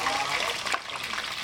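Hot oil sizzles and crackles steadily in a pot, a dense, close hiss with small pops throughout.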